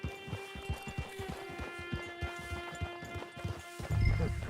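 Horse hooves clop at a steady trotting rhythm in the Red Dead Online video game, moderately close, over a constant tonal musical hum, with a louder rustling burst near the end.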